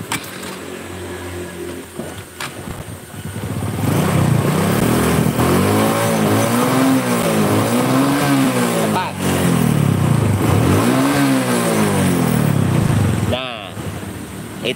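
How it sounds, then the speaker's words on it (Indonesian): A Supra motorcycle engine with its exhaust plugged revs loud and close in several rising and falling surges, after a lower idle at the start. "Dah kayak gitu, coba digas."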